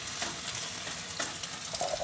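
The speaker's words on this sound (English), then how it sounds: "So it started sizzling when we added the potatoes" Potatoes and chorizo sizzle steadily in a hot frying pan, with scraping stirs from a utensil audible over the constant frying hiss, close and moderately loud.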